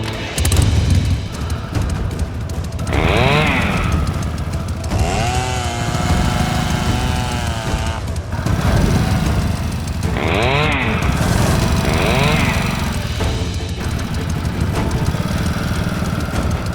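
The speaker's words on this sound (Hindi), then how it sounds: "बाइक स्टार्ट कीजिए।" A motorbike engine is started and left idling in a Hindi TV comedy scene, with a loud, steady mechanical drone that runs the whole length. Revs or horn-like tones rise above it now and then.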